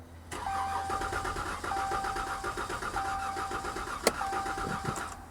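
A Chevy Z71 pickup engine cranking over and over on a jump pack without catching, a steady rhythmic starter whir in repeated bursts broken by brief pauses and a sharp click, heard close up.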